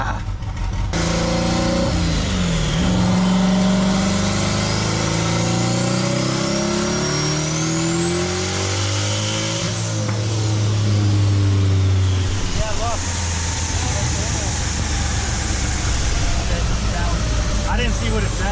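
Car engine revving hard on a dyno while blowing out the spark: loud, continuous roar with rising and falling pitch as revs climb and drop, with voices talking over it.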